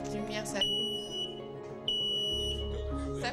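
A smoke detector being paired with a home automation box sounds steady electronic beep tones, with a second tone entering partway through over a low hum and background sound.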